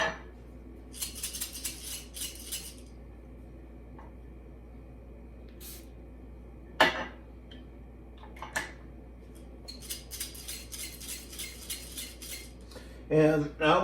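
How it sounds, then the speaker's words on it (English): Metal distribution tool scraping and clinking through damp espresso grounds in a portafilter after a couple of water sprays, a few short bursts of rapid stirring with sharp taps and clinks between quieter pauses. "And I always like to stir it up"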